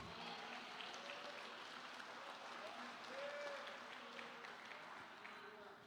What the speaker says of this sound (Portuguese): Aplauda Jesus, é para Ele.